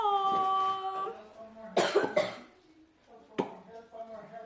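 A few short coughs close by, following a sustained vocal tone, with some faint background clatter.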